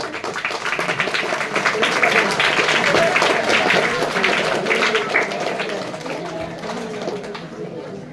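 Clapping fills a students' wellness program session, a brisk, fairly close burst that swells and then tapers over several seconds, with voices underneath.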